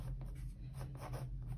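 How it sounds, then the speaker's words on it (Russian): A well-sharpened pencil scratches softly across paper in short repeated strokes, sketching thin grass blades in a close, steady scratching rhythm over a low background hum. "прорисовать карандашом хорошо заточенным"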